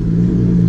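Lotus Exige Sport 380 engine, already warm, revving with a loud, steady hum as the car pulls away.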